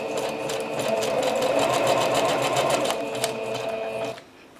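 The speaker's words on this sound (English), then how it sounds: "So I'm just going to stitch wherever I sort of feel like stitching." A sewing machine runs a continuous, close mechanical chatter while stitching through a crinkled paper bag, then stops abruptly near the end.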